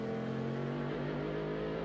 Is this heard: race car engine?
yes